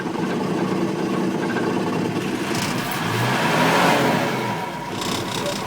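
A Massey Ferguson 1200 tractor's diesel engine starts in the cold at about -5 degrees and runs steadily with a loose exhaust, a loud close continuous rumble and clatter that swells slightly midway with no speech.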